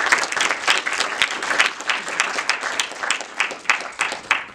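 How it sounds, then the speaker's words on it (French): An audience applauds the jury members at a French media awards evening, a dense, lively burst of clapping that holds steady throughout with crisp individual claps standing out. "On peut les applaudir."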